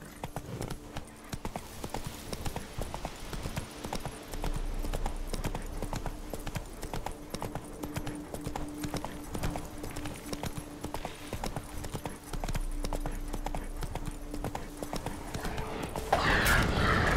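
Horse hooves clip-clop steadily in The Witcher video game, a continuous even rhythm of near, distinct hoofbeats with a brief whinny-like burst near the end.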